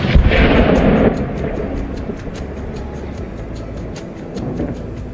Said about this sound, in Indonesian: peperangan yang sensasional yang memberikan letusan-letusan serangan yang dilepaskan dari tangki-tangki atau tank-tank Ukraina melawan